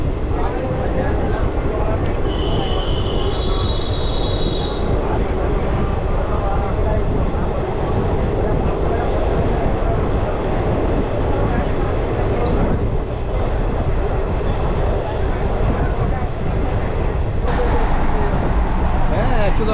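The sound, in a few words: Vande Bharat train leaving Pakur station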